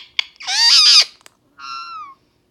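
A pet bird calls at close range indoors, giving a tiny click, then a loud, drawn-out warbling squawk, and after a short pause a cleaner, softer whistled note. No one talks.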